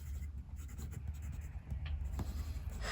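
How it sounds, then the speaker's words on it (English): Laban Flame fountain pen with a medium Jowo nib writes across paper in short, steady scratchy strokes, close and quiet, with a faint low background hum beneath. "just do a very quick writing sample here with the Sun"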